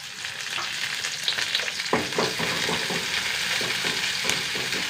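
Garlic and curry leaves fry in hot oil with a steady close sizzle, a few sharper crackles and pops breaking through partway in.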